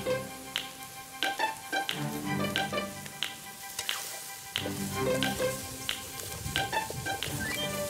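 Spices with annatto and cinnamon powder toasting in a hot pan, a steady close sizzle and crackle with sharp scraping stirs coming at irregular intervals, and no voices.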